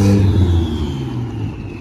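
A turbocharged Honda Civic suffering a loss of boost revs hard at full throttle, its engine note loud and close, a steady strained drone that eases slightly toward the end.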